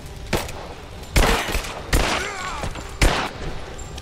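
Gunfire in the video game Rise of the Tomb Raider: four sharp, loud bursts of shots spaced a second or so apart, each with a brief rumbling tail.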